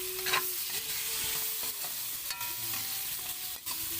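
Shrimp sautéing in a pan for a Filipino drunken shrimp dish, a steady close sizzle with repeated scraping stir strokes of a utensil against the pan.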